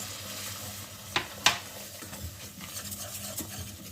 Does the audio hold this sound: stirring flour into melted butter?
yes